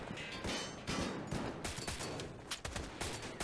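Rapid, sustained bursts of AK rifle fire from a TV show action scene, dense overlapping shots with sharp cracks throughout, loud and close with no pause.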